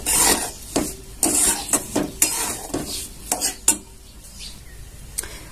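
A spoon scrapes and stirs a ground peanut and sabudana flour mixture in a pan over low heat, with repeated close gritty strokes and metallic scrapes in an uneven rhythm, no voices.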